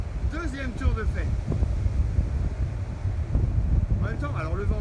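Outdoor wind buffets the microphone during an exercise session, a constant low rumbling roar, with a voice heard briefly at the start and end.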